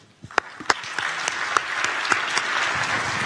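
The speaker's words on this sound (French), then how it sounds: "Alors on va applaudir, si vous permettez, maintenant nos intervenants" Audience at a business round table applauding the speakers, starting with a few scattered claps that quickly build into steady, moderately loud clapping from a room of people, with some sharper individual claps standing out.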